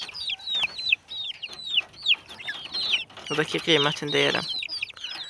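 Chickens cluck in repeated short bursts close by, with rising calls and a louder stretch of clucking midway, while someone talks over them in a farmyard.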